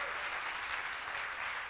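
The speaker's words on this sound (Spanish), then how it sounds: "Un aplauso para el panel" Audience applause for a panel at a fintech conference, a dense, even wash of clapping from a seated crowd, moderately distant and steady throughout.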